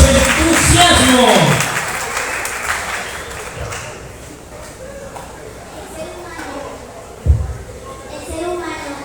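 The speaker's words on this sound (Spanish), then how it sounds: "¿Dónde están esos aplausos?" Audience applause at a school reading contest, a burst of clapping that fades within a couple of seconds, followed by a speaker's voice over a quiet room with a sharp knock later on.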